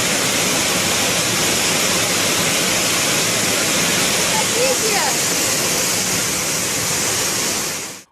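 Floodwater rushes through submerged city streets in a loud, continuous broadband roar that holds steady for about eight seconds before cutting off.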